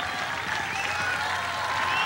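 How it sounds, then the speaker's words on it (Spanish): A crowd applauds loudly and continuously for a Mexican ranchera singer, with steady dense clapping and some tonal crowd sound or music ringing over it. "para el cual pido un gran, gran aplauso por todo lo que representa"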